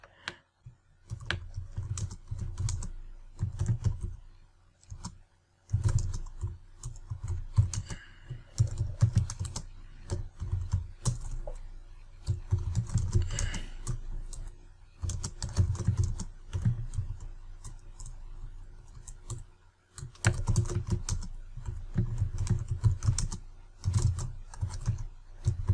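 Someone types steadily on a computer keyboard, close and clear, in quick bursts of clicking key presses separated by short pauses, with no talking.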